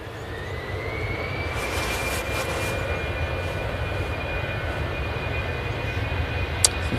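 An EasyJet Airbus A319 airliner departs Manchester Airport in the early morning, bound for Amsterdam Schiphol, giving a steady, even engine roar with a thin rising whine held throughout and a brief sharp click near the end.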